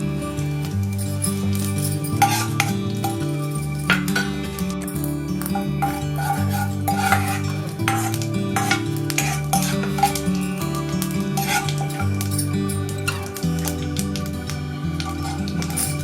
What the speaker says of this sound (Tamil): கடுகு உளுந்தம்பருப்பு பொரிஞ்சிருச்சு.